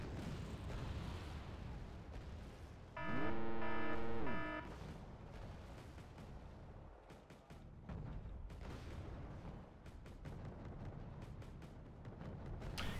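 MLRS rocket artillery fires in the strategy game Wargame: Red Dragon: a loud, roaring salvo with a whining tonal sweep, then scattered sharp cracks and impacts over a constant din of battle.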